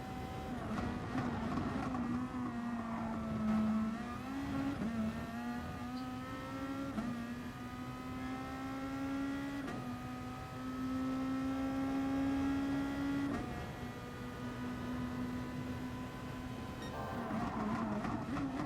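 Race cars in Gran Turismo Sport at the Red Bull Ring run as a close pack, a steady engine drone whose pitch climbs and drops with each gear change across the whole stretch, no talking over it.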